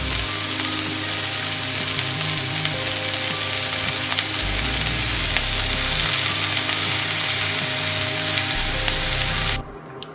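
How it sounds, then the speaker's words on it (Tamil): Onion, beetroot, carrot and green peas frying in a pan for vegetable cutlets, a loud continuous sizzle with a rumbling undertone that cuts off abruptly near the end, close up. "இப்போ பீட்ரூட்டு, கேரட்டு, பச்சை பட்டாணி எல்லாமே போட்டு நல்லா வதக்கிக்கலாம்."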